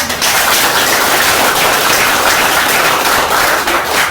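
An audience at a company briefing session gives the chairman a loud, sustained round of applause, dense clapping from many hands filling the room without pause.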